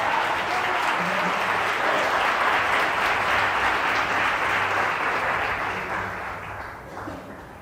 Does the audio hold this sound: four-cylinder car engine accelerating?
no